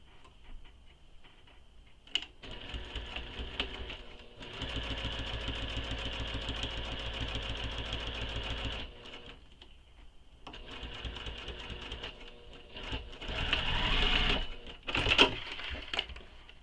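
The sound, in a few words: sewing machine stitching wallet edges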